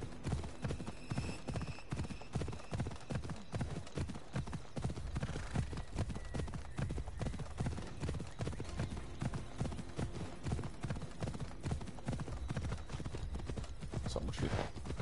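Horse hooves clip-clop steadily in a video game, a dense, even rhythm of close, moderately loud hoof strikes running throughout with occasional faint whinny-like tones and a little talk.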